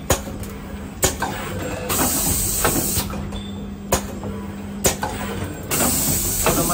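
A paper cup three-color LED UV full-automatic screen printer running steadily, with a constant mechanical hum and hiss broken by sharp periodic clunks and slides about once a second, close by, with no talking.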